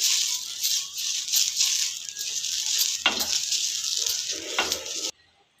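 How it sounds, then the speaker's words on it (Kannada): Oil sizzles and crackles on a hot dosa tawa as it is spread, making a steady close hiss with a couple of brief scraping knocks before it cuts off abruptly near the end. "ಇವಾಗ ದೋಸೆ ತವಾ ಕಾಯ್ಲಿಕ್ಕೆ ಇಟ್ಟಿದ್ದೀನಿ. ಇದಕ್ಕೆ ಎಣ್ಣೆ ಹಚ್ಕೋತಾ ಇದ್ದೀನಿ."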